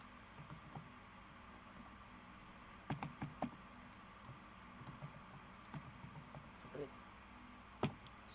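Typing HTML code on a computer keyboard: scattered, sparse key clicks in short clusters with pauses, fairly quiet against a steady low room hum.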